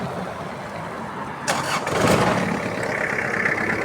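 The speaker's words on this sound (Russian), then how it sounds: "Заводим трактор." A quiet background gives way to a Kubota GT-3 mini tractor engine cranking and catching, then settling into a steady running rumble.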